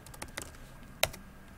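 Keystrokes on a computer keyboard at a desktop during a MATLAB programming lecture: a few light, scattered taps and one sharper click, close by and fairly quiet, with no talking.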